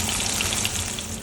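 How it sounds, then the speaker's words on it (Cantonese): Fish frying in a pan for a seafood tofu stew, a brief, steady close sizzle with a watery, bubbling texture and no voices. "煎到兩邊都黃色，我哋就拔起佢，煎埋嗰條先"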